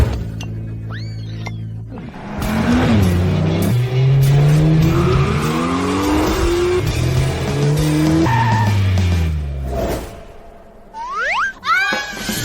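A sports car's engine revs hard in rising and falling sweeps, then its tires screech loudly as it skids to a stop, with sharp squeals near the end.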